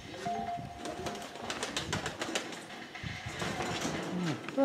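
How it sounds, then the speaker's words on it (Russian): Pigeons at a village dovecote in Shakhovo coo in low, soft repeated calls amid rustling and other bird sounds outdoors, with a steady breeze-like background throughout. "Вот этот голубь, Сереж, порвался с богатой голубкой, понял?"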